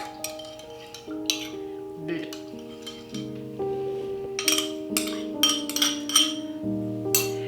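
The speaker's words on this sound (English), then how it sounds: "Give that a good stir" A spoon stirs vegan zucchini brownie batter in a bowl, producing repeated light clinks and scraping knocks in an uneven rhythm, over soft tonal background music.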